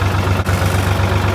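A tractor engine drives a hydraulic pump through the PTO, a loud, steady, close low drone with a deep hum and a brief dip partway through.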